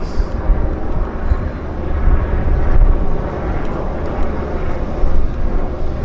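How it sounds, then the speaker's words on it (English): A de Havilland Beaver floatplane landing at the Vancouver float base, its piston engine droning loud and steady with a broad rumbling roar that swells and eases across the approach. "Let's see if I can film the full sequence of this Beaver landing."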